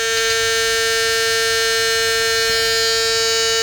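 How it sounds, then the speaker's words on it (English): A semi truck's low air pressure alarm buzzes continuously, a loud, steady, piercing electronic tone that holds without a break while the air system sits far below pressure. "I think that's the air alarm because my air pressure's way low."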